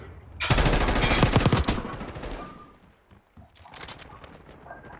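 Bursts of rapid automatic gunfire from an online shooter game, a loud dense volley for about two seconds followed by quieter scattered shots and clatter, with no one speaking.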